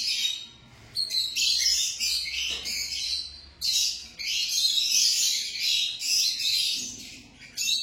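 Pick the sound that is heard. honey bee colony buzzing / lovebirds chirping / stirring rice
lovebirds chirping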